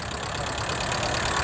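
A tractor engine runs at a vintage tractor and classic car parade at the Ashby Show, giving a continuous, loud, rough idle with a steady low throb throughout.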